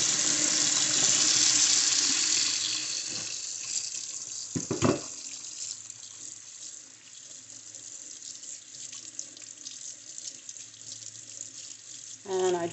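A faucet runs steadily into a sink while a makeup brush is rinsed bristles-down after washing with Dawn antibacterial soap and olive oil; a broadband water hiss holds throughout, with a brief splashy burst midway and a stronger surge near the end.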